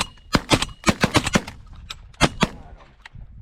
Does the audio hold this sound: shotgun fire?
yes